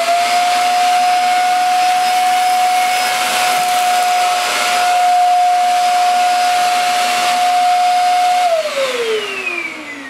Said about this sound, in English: let's switch the Goblin on, pass the nozzle forwards and back, and evaluate the cleaning results